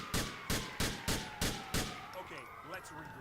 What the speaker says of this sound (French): on me tire dessus là